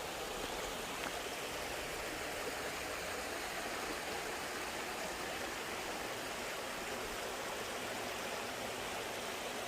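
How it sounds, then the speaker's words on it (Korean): A clear mountain valley stream runs behind a countryside cafe in Hongcheon on a rainy afternoon, giving a steady, even rushing of water that fills the whole stretch with no voices. "요 뒤에는 요 깨끗한 저 내과 계곡물이 요래 흐르고 있거든요"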